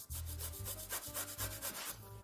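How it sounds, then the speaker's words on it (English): Five small garlic cloves rubbed across a kitchen grater, a quick run of rhythmic rasping strokes, close and steady, with no talking. "I will grate them on a grater and they will come in handy at the end of the preparation"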